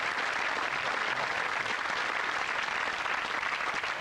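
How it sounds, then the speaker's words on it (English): Studio audience applause at a 1989 British television game show, a dense, even wash of clapping that holds steady and loud throughout with no voices over it. "Give Mervyn a nice round of applause"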